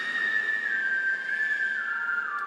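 A steady, piercing synth whistle sits in a dance track. It is layered and smoothed of harsh resonances, and it holds a sustained tone that glides slightly downward near the end, loud and up front with no voices.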